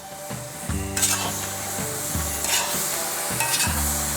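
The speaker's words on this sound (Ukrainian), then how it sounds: "Не забувайте, перемішувати" Bograch stew stirred in a cauldron, a spoon scraping and clanking against the pot in repeated strokes over a sizzling simmer, close and clear.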